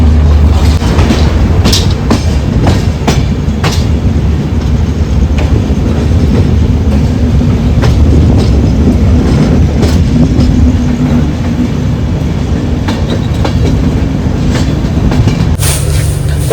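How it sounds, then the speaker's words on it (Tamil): A double-decker train travels from Rajasthan to Delhi, filling the space with a loud, continuous low rumble and rolling clatter of wheels on track, with scattered clicks and knocks throughout. "பரவாயில்லைங்க, ட்ரெயின் மூவ் ஆயிடுச்சு."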